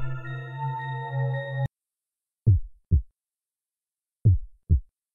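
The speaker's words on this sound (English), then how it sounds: "Heartbeat." A two-beat heartbeat effect from the video game Resident Evil: Containment mod, two pairs of deep thumps sounding alone in silence after a sustained tonal game sound cuts off abruptly.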